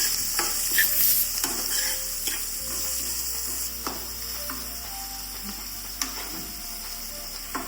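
A spoon stirs shredded carrot and cabbage sambharo in a hot pan, soft scraping strokes repeating over a faint steady sizzle, close and quiet.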